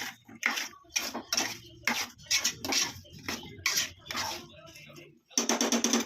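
Potato and chicken curry stirred in a pan, with repeated scraping and clattering strokes of a spoon against the metal at a steady rhythm, close and loud under someone speaking.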